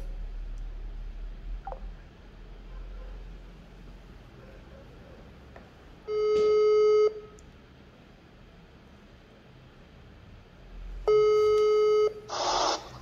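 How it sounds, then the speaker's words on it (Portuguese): Repeated electronic telephone ringing tones during a poor-quality call, two bursts of steady beeping standing out over a noisy, dropping line with no talk. "Às vezes toca o telefone e aí cai o som."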